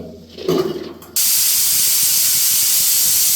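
A few soft clanks, then a pressure cooker on its single whistle suddenly starts blasting a loud, continuous hiss of escaping steam that holds steady to the end.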